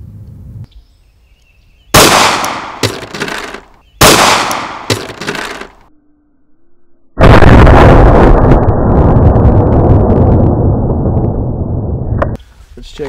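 9mm Gorilla Silverback 115gr rounds fired into ballistic gelatin at an outdoor range, heard as several sharp, very loud close shots with ringing decay, then a long stretch of dense, steady noise.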